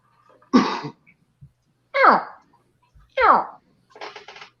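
A person imitates a frog's croak with their voice, three throaty bursts followed by a softer, raspier one, close to the listener with short pauses between.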